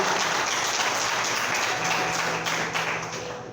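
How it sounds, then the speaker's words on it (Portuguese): A church congregation in Pirapora breaks into applause during a worship service, a thick, rain-like patter of many hands that holds steady and then begins to thin toward the end, with a faint low hum beneath. "Dê uma salva de palmas ao nosso Senhor e Salvador Jesus"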